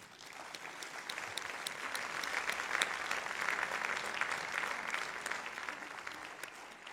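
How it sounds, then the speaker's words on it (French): Steady audience applause, a dense wash of many hands clapping continuously at even loudness for several seconds, with no voices over it. "Sous vos applaudissements, bien sûr."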